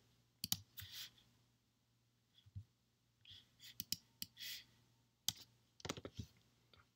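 Bursts of clicky key presses on a computer keyboard, typed in short irregular runs with pauses between them, fairly close and clear over a faint low hum, with no talking.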